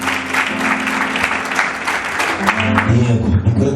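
Steady applause from a church wedding congregation, dense and continuous for the whole stretch, with low musical tones rising beneath it toward the end.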